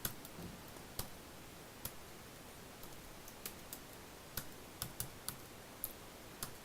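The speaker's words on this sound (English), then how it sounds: "So all I have to do is press Control E" Keys are pressed on a MacBook keyboard, with about a dozen sharp, close clicks spaced irregularly across a quiet background.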